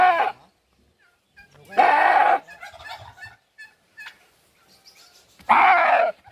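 Goats on a rural Philippine farm, bleating loudly in two harsh bursts separated by quieter shuffling and faint animal sounds, close to the listener.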